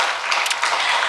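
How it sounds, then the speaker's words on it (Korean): A congregation at a Sunday morning service at Namwon Pilgrim Church applauds to welcome a new member, a dense, continuous wash of many hands clapping, loud and steady throughout. "우리 환영의 축복에 박수 드리도록 하겠습니다"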